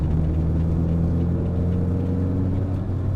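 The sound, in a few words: Renault Clio 172 revving with non-stock exhaust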